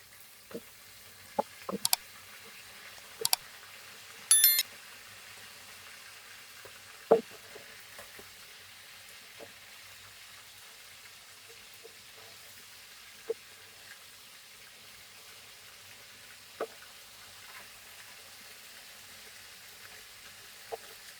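Flipped katla fish keeps frying in oil with a quiet, even sizzle, broken by a few sharp pops and clinks early on and then scattered faint spits.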